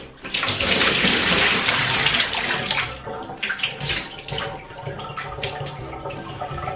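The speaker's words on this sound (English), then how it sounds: "Get all that excess water out as best as possible." Water drains from a humidifier base during cleaning with vinegar, a loud, continuous pouring splash that later breaks into uneven trickles and drips. No talking.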